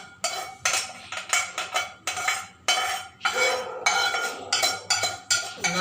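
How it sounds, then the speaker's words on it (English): Vermicelli upma being moved from one pan to another, with repeated loud metal scrapes and clinks of a utensil against the pan, in a steady rhythm of short bursts with no talk. "I'll just transfer these things into another pan."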